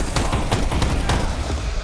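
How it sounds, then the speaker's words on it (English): Rapid Tech 9 gunfire bursts in a Counter-Strike match at the B bomb site, loud and close, crack after crack in quick succession over a dense booming wash. "Explosion on the B bomb site from a bunch of Tech 9s and some really nice shots."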